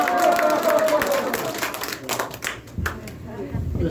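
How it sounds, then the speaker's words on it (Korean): Seniors at an academy class clap their hands together while laughing, a few loose rhythmic claps and chatter mixed with a speaking voice. "박수를 이렇게 치게끔 손을 박수를 치면 더 좋대요"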